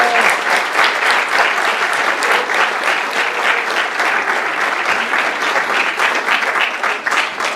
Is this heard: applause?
yes